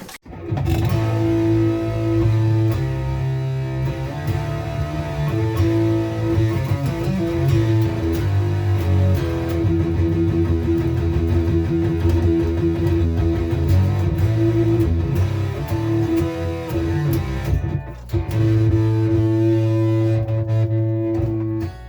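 Electric guitar played through a DOD American Metal distortion pedal into a small solid-state Fender combo amp, a thick, sustained distorted tone holding steady chords and notes at close range for about twenty seconds, with a brief dip near the end.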